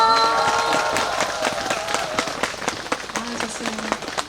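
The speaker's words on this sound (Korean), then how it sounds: "여러분들 다 같이 박수 한번 크게 보내주세요" A festival crowd at an outdoor stage by Seonbawi rock in Ulju breaks into loud, sustained clapping, with scattered cheers and a voice speaking over the applause.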